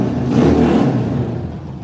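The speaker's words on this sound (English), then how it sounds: "Stock bike, stock pipes, straight from Harley Davidson." Stock Harley-Davidson motorcycle on factory exhaust pipes revving, a loud, close, low throaty engine swell that peaks early and then eases into a steady rumble, with no talking.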